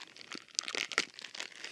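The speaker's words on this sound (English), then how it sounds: "These are sealed plastic bags. Surprising. Okay, so let's break the seal." A sealed plastic bag being pulled open, giving a burst of close, crisp crinkling and tearing crackles with a few sharper snaps, heard alone.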